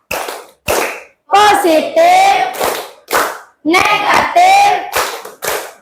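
A group performs the 'tepuk matematika' clap game, sharp rhythmic bursts of unison hand claps alternating with loud chanted words, close and energetic, repeating in quick patterned sets.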